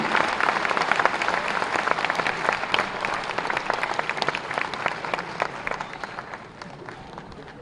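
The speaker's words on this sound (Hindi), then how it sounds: "तालियों की गड़गड़ाहट से उनका स्वागत होना चाहिए" Sustained applause from a large audience welcoming Chief Minister Shivraj Singh Chouhan to the stage at the SC-ST Business Conclave and Expo, dense steady clapping throughout that eases slightly toward the end.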